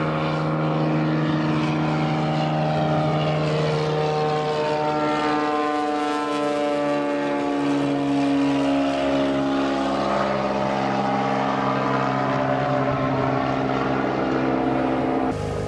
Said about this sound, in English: others used a float plane to zoom speedily back to their Lake Taupo base.